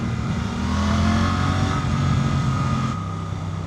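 Suzuki GSX-8R 2025 motorcycle engine pulling steadily under acceleration during a test ride, a close, continuous mid-pitched drone with a rising tone that eases off near the end, with no talk.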